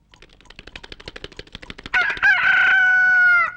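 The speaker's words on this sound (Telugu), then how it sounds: "తెల్లారిపోయింది. కోడి మోగింది." A rooster crows at dawn, one loud drawn-out call close by, preceded by rapid clucking and tapping.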